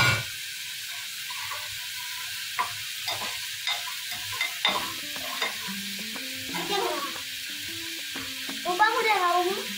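Onions fry in a pan for kolambi masala until golden, a soft steady sizzle with occasional stirring scrapes, while people talk over it.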